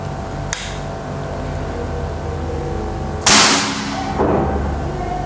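A Bocap Predator PCP air rifle fires a single sharp, loud shot, with a fainter click a few seconds earlier and a softer thud of the impact about a second later, over steady background hiss.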